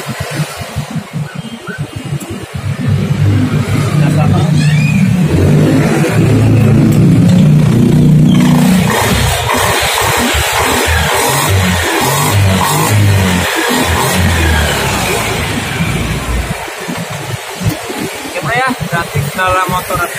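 A Honda Beat FI eSP motorcycle engine starts and runs with a steady rumbling drone for several seconds, then cuts out; someone talks intermittently nearby.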